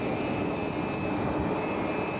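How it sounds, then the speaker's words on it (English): A chartered jet airplane lands at Fort Lauderdale Airport, its engines giving a loud continuous roar with a high whine on top. The sound is steady and close, with no voices over it. "their chartered jet touched down at 7:40 Eastern time at Fort Lauderdale Airport"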